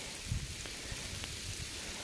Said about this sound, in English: Man, if this rain would only go away.